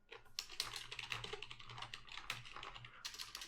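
Steady, close keystrokes on a computer keyboard while writing CSS code, a continuous run of light clicks with a brief lull before a final burst.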